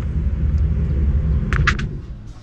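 An old French motorhome's engine idles with a steady low rumble close by, with a brief cluster of higher clatter midway before it settles back to a constant running drone.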